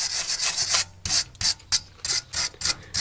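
A wire brush scrubs the brake pad carrier mounts of an Audi A3 during a brake job with badly worn discs; close, rhythmic back-and-forth rasping strokes in quick bursts, with no talking.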